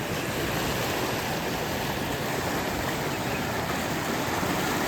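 Strong river current rushes past in a broad, steady roar of flowing water, loud and close, holding constant without talk.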